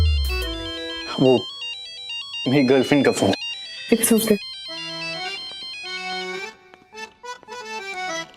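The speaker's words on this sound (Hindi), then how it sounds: "वो मेरी गर्लफ्रेंड का फोन।" A mobile phone plays a melodic electronic ringtone, loud and near, looping its tune while a person speaks briefly over it.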